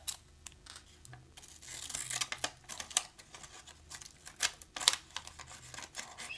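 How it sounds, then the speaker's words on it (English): Small scissors snip through glossy magazine paper in a quiet room, giving a run of crisp, close cuts and faint paper rustles that come at an irregular pace. "I'm going to take these cute little scissors."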